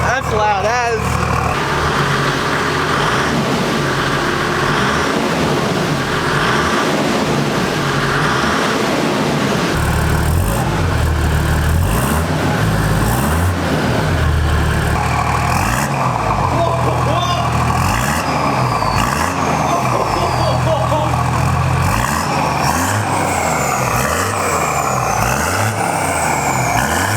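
Loud, deep exhaust rumble from a Toyota Landcruiser 4WD with a 1HDT turbo-diesel and a 3-inch straight-pipe exhaust, held close with repeated rev swells and a truck-like drone throughout, with some talk over it.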